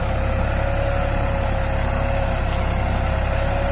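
A Deutz-Fahr Agrolux 50 tractor pulling a Lemken Opal plough runs at 1500 RPM in low third gear, its engine a steady, even, close-up drone with a constant low throbbing hum and no pauses.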